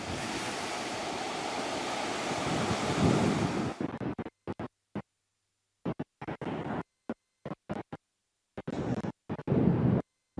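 Ocean surf rolls onto a beach with a broad rushing wash and wind buffeting the microphone, then drops into choppy bursts broken by near-silent gaps before a final swell of surf.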